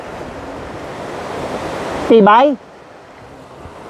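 Strong typhoon wind in a forest setting, a loud, steady broadband roar that runs through the whole stretch, with a short burst of voice partway through.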